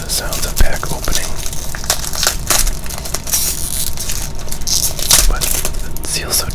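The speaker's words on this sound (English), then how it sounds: "for those of you who like the sounds of pack opening" Crinkling, crackling cellophane wrap on an old baseball card rack pack being pulled and torn up close, with irregular sharp bursts of rustling over several seconds.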